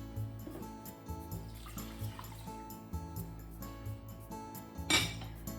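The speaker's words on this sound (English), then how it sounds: "It's 2 cups of rice, so let's add 2 cups of water." Water poured into a pot holding two cups of rice, a steady trickling splash with a louder slosh near the end, close and moderately quiet, with faint clinks of the pot.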